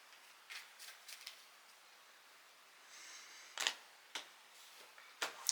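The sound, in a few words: cutting a tarot card deck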